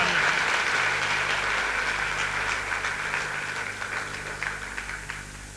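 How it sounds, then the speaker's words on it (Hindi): A crowd claps in thick, continuous applause that starts loud and slowly fades over several seconds, heard from within the room with no clear speech. "आप सभी के लिए एक बार जोरदार तालियां।"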